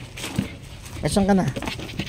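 A small pug dog pants in quick, close breaths with a brief whine, heard under a person speaking.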